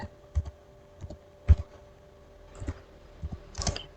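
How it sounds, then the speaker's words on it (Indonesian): Someone types a command on a computer keyboard, a few scattered clicks and taps at an uneven pace, quiet and near, against a faint steady hum. "Lalu kita ketikkan sudo"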